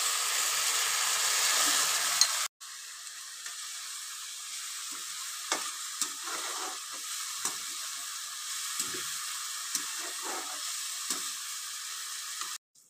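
Chopped tomato puree hits a hot pan with onions, a loud burst of sizzling that drops into a steady hiss of frying, with occasional stirring scrapes and clinks throughout.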